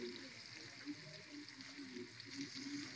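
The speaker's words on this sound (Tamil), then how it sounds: "ஸோ ஒன்று ஒன்றா எடுத்து மெதுவாக போட்டுக்கோங்க. நல்லா அது ஃப்ரை ஆகட்டும்." Fish frying in hot oil gives a soft, steady sizzle with faint crackles throughout, quiet and close, with no voices over it.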